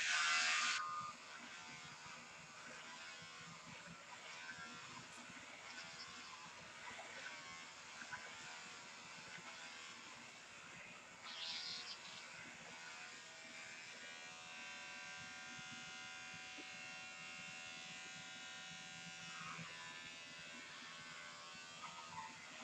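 Electric clippers buzz steadily while shaving hair from a head, a close, continuous motorized hum with slight shifts in pitch as the blades move across one side.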